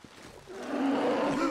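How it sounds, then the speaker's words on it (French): A bear roars in The Long Dark survival game, a rising, growling bellow that swells after a brief quiet start and holds loud and close to the end, with no talk over it. "on a trouvé un ours"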